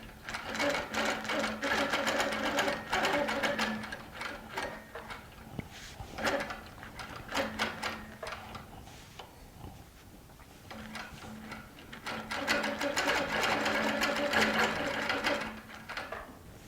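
A Baby Lock sewing machine with a ruler work foot stitches a quilting line in fast, steady runs, pausing briefly near the middle before starting again, close and fairly loud.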